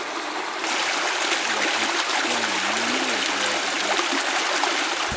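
Creek water flows steadily past a hiker's resupply stop near a ghost town, a continuous close trickling and rushing sound with a faint low tonal hum underneath and no talking.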